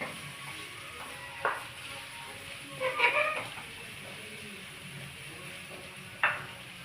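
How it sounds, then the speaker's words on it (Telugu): Okra fries in a pan, a steady soft sizzle broken by a few clinks and scrapes as it is turned over from the bottom. "ఇలా కింద నుంచి పైకి ఇలా కలుపుకోవాలి"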